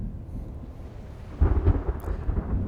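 Rumbling thunder in a video game storm, a low sustained roll that swells louder about halfway through with several heavier rumbles, heard alone.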